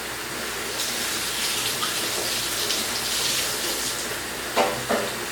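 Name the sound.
water running from tap while washing hands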